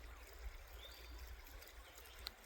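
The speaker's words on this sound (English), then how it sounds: "Saco River." The Saco River flows steadily nearby, a soft, continuous stream-and-trickle wash that stays faint and even, with one brief small splash near the end.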